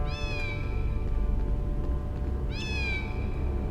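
A cat in the PS1 game Harry Potter and the Philosopher's Stone gives two clear, drawn-out meows, one early and one near the end, over a steady humming background.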